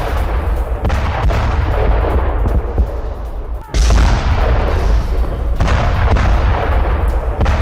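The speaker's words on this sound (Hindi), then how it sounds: "अदन में गैस स्टेशन पर जबरदस्त धमाका।" Loud, continuous rumbling blasts and booming roar from a large explosion at a gas station in Aden, with a sharp surge midway and heavy low-end thunder throughout.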